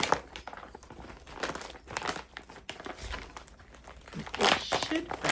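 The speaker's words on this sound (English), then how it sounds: "I think this is a storage bag. So it's plasticky" A plastic zip storage bag, about A4 size, crinkles and rustles in irregular bursts as it is handled up close, while someone talks over it.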